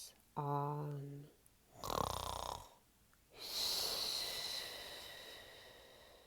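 A reader's voice imitates a brown bear snoring during a bedtime story: a drawn-out vocal tone, then a raspy snort and a long breathy snore, heard close and alone.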